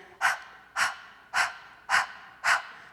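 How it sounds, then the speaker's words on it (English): Five quick, forceful Breath of Fire breaths in a steady rhythm, close and loud, like rapid panting, with no talking. "We want to pant like a dog, basically."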